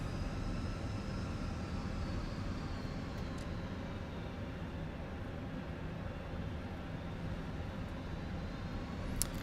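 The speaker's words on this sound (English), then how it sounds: "Parking brake can come off. Little bit of thrust to get us moving." A steady, droning airliner engine hum in a flight simulator as the plane taxis under light thrust, a low continuous rumble with a faint high whine that stays even throughout, with no talk.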